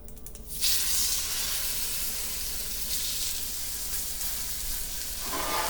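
Pork chops frying in hot oil in a pan, a steady dense sizzle that holds throughout at close range, with no talking.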